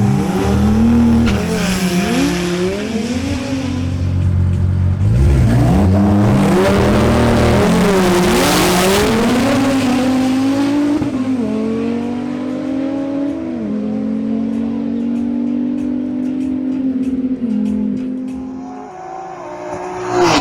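Audi RS3 and Nissan GT-R racing in a repeated track duel, engines loudly revving and rising through gear changes, with tire squeal throughout, close and continuous.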